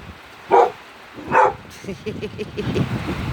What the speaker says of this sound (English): He's barking at the rain.